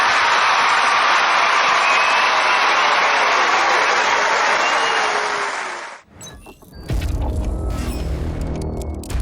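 A loud, dense wash of crowd applause and cheering roars for about six seconds, then cuts off abruptly and gives way to a different, rumbling mechanical sound.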